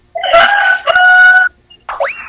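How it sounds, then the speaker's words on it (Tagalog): A chicken crows and clucks up close: two long, loud, strained calls in a row, a short pause, then a quick rising squawk, with no voices. "May manok."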